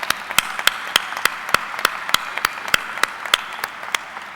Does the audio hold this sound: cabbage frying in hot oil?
no